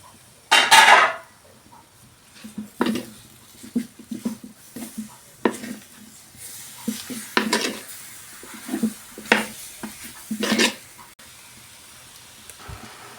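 Intermittent scraping and clinking of a spoon stirring chicken into masala in a pan for chicken curry, with soft sizzling between the strokes, irregular and close.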